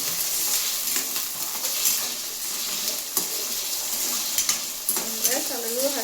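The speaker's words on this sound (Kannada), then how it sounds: "ಸ್ವಲ್ಪ ಹಸಿ ಆಲೂಗಡ್ಡೆ ತೊಗೊಂಡಿರ್ತೇವಲ್ರಿ, ಸ್ವಲ್ಪ ಎಣ್ಣೆಗೆ ಫ್ರೈ ಆದ್ರೆ ಟೇಸ್ಟ್ ಆಗ್ತದೆ." Raw potatoes frying in oil for a North Karnataka aloo dum biryani give a steady, close sizzle with scraping stir sounds, and a brief voice comes in near the end.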